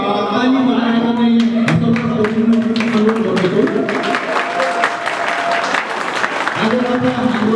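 A crowd claps at the inauguration of a newly built ward office building, a scattered burst of applause partly under a loud voice and other sound.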